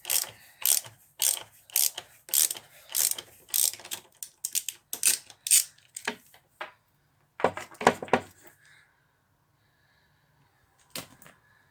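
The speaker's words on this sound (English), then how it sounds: "I'm going to have to take these bolts out of this floor" Bolts are worked loose from a van floor with a ratchet, giving quick bursts of clicking pawl strokes, loud and close, then a pause and a few more ratchet clicks near the end.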